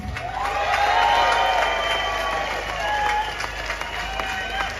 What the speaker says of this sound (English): that round of applause didn't do her justice